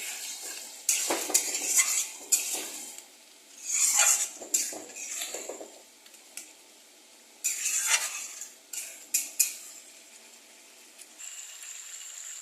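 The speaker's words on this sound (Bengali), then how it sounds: "একটু গরম জল দিয়ে আমি আবার এটাকে কষাবো।" Masala mutton is stir-fried in a pan with a spatula, giving intermittent bursts of metallic scraping and clanking with a faint sizzle and short quiet gaps between strokes.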